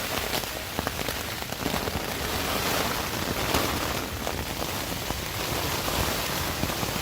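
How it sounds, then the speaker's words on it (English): Heavy rain pours down during a windy night storm in the wild, a dense, steady hiss of drops drumming on surfaces close by, with no voices. "It's so rainy"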